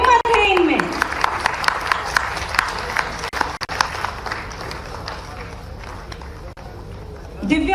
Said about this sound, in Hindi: इनका हौसला अफजाई के लिए तालियां बजनी चाहिए